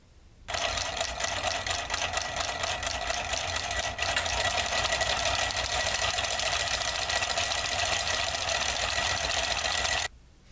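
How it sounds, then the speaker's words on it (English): A reed switch solenoid motor runs at a fast, buzzing mechanical clatter that stays loud and steady for about ten seconds, its rhythm shifting partway through as a second solenoid cuts in. "I'll begin running with one solenoid and then I'll cut in the other solenoid"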